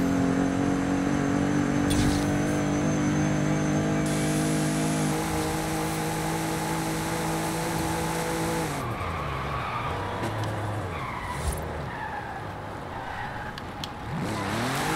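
A rear-wheel-drive 1982 Volkswagen pickup with a drift tune roars loudly and steadily nearby, its engine holding a sustained drone before dropping in pitch, followed by rougher tire and road noise as the truck slows.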